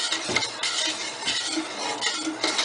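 A utensil scrapes and stirs chocolate strawberry sauce around a pot in repeated, rhythmic sweeps, close up, with a faint background hiss and no talking.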